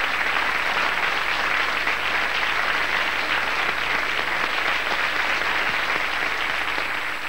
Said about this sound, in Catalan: aquest és l'aplaudiment també del nostre públic a la fabulosa demostració.